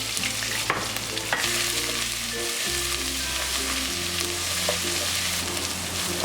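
Crushed fennel, ginger and garlic frying in a hot pan with oil, stirred steadily throughout, a continuous close sizzle with scraping of the spoon and a faint low background hum, no voices.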